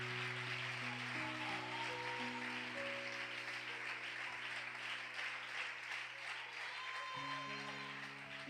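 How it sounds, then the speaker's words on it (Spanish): Congregation applauding loudly during a Spanish-language church worship service, steady dense clapping throughout with sustained music tones and voices underneath. "Dale un aplauso fuerte al Señor"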